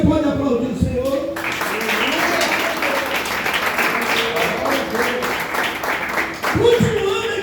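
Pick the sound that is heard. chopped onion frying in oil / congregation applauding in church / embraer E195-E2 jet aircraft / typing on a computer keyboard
congregation applauding in church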